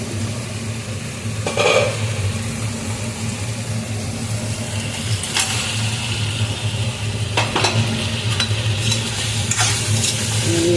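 Fried potatoes tumble into a hot pan of spiced curry base and get stirred, with a steady loud sizzle throughout and scattered scraping clinks of the spoon against the pan.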